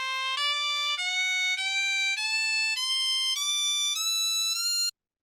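A nine-note mode from the Nongkrem Dance Festival music of Meghalaya, played as single clear tones climbing one step at a time from lowest to highest, evenly spaced and sustained, with no voices.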